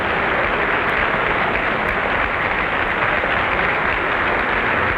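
A packed Armory crowd applauding John F. Kennedy on election night 1960, with enthusiasts from Hyannis among them: a dense, continuous roar of clapping and cheering, loud and unbroken throughout, heard through an old broadcast recording.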